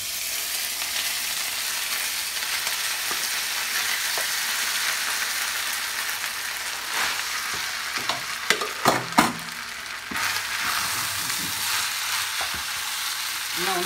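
Cooked rice stirred into fried cashews in a pan over a low flame: a soft continuous sizzle with scraping, stirring sounds and a few louder clanks of the spoon partway through.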